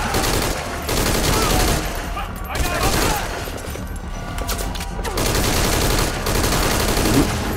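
Gunfire rattles through a firefight in the video game Metal Gear Solid V: Ground Zeroes, loud overlapping bursts of automatic shots and rapid reports, while a player talks over the noise.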